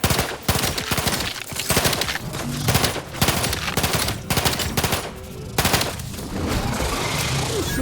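Gunfire in the video game The Outer Worlds 2: rapid, sustained automatic bursts with brief pauses, loud and close, dense enough to blur into continuous rattling, with a voice briefly present.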